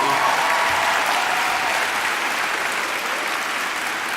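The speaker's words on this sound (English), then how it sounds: "Can you give yourself a round of applause?" A graduation ceremony audience applauds steadily, a dense, loud wash of clapping that holds for the whole stretch with little variation.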